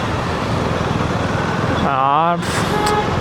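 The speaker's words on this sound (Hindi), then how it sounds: "कितना ट्रैफिक होता है यार इससे" Busy street traffic with engines rumbling steadily, broken by one short, loud car horn honk that wavers in pitch, followed by a fainter second toot, with a voice talking over the noise.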